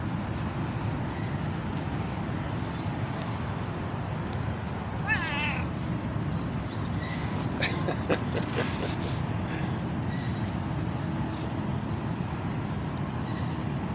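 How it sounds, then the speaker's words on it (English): A cat meows a few times, small rising calls set against a steady broadband background hum of an indoor space, with some clicking and rustling around the midpoint. "The cat is a companion animal to our collection here."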